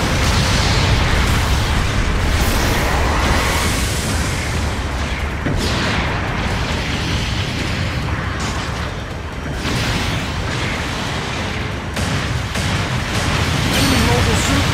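A mobile suit explodes in Gundam Battle Operation 2, with heavy booms and rumbling blasts in a loud, dense battle mix under game voice announcements.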